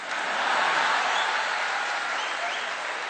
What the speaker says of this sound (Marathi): वाजवा टाळ्या वाजवा.